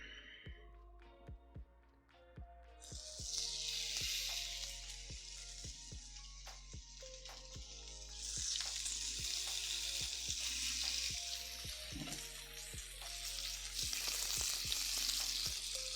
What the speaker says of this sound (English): Ready for that sizzle.